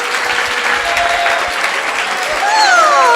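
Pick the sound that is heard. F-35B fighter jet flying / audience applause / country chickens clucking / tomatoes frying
audience applause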